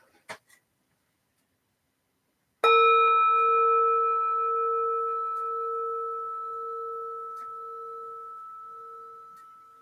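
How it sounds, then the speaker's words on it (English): A meditation bell is struck once after a brief faint tap, giving a clear ringing tone that hangs and slowly fades over several seconds, alone in a quiet room. "I'll ring this and we'll begin"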